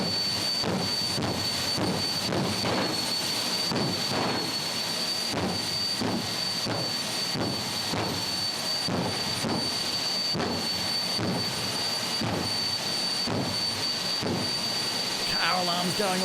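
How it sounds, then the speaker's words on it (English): A jet dragster at a drag race at Hidden Valley, Darwin, gives off a steady, loud jet roar broken by regular, rapid afterburner pops that repeat about once a second for the whole stretch. "Gotta love the afterburner pops. Listen to that sweet, sweet sound."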